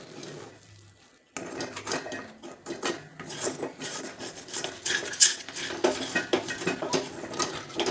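Metal utensil scraping and clinking against a pan to lift stuck steamed moong dal dough for coriander vadi, a run of close, busy scrapes with dense rhythmic strokes after a brief quiet start, with no talking.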